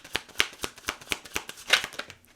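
Tarot cards shuffled and drawn, a close, crisp train of rapid riffling flicks in an even rhythm that fades at the end.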